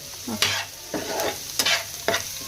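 Vegetable momo filling stirred with salt in a pan, giving about four distinct scraping strokes spaced roughly half a second apart over a light sizzle, close and moderately loud, with no voices.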